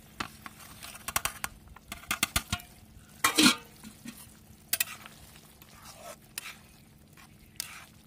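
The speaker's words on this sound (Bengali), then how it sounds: "এবার মাছটা দিয়ে দেবো।" Hilsa fish goes into a hot pan for a green banana and coconut dish. Scattered clatter and stirring scrapes are followed by a short burst of sizzling as the fish lands, then more intermittent stirring knocks.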